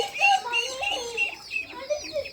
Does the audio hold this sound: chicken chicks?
yes